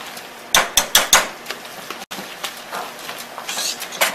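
A wire whisk beats eggs in a bowl for beignet dough, opening with a quick run of sharp metallic clinks, then settling into a steady, softer scraping swish.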